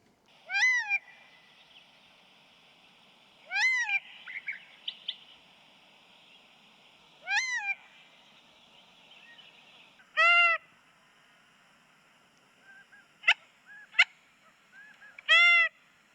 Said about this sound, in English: I have some recorded sounds on my phone that I'm going to try to play and see if we can't get the quail to respond to our calls